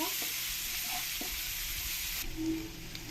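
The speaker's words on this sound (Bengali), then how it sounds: "পেঁয়াজগুলোকে আমি একটু লাল লাল করে ভালো করে ভেজে নেব" Chopped onions fry in a pan, making a constant broad sizzling hiss with a couple of faint stirring knocks, near and even in level, with no one talking.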